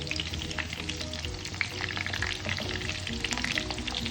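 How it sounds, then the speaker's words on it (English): Chicken chapli kebabs shallow frying in a mix of oil and ghee give a steady, close crackling sizzle that runs without a break, with faint stirring or shifting sounds in the pan and no talking. "They have to be shallow fried, not deep fried, but with enough. I mixed oil and ghee."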